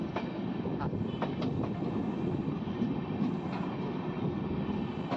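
The Kolkata–Sairang Express rumbles steadily nearby, with rhythmic clickety-clack of wheels over rail joints throughout.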